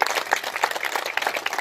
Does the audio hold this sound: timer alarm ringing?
no